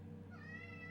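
A single short meow from a cat rises partway through over a steady low hum, close and moderately loud.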